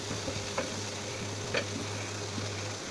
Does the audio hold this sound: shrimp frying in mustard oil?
yes